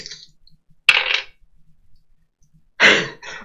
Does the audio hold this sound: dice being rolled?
yes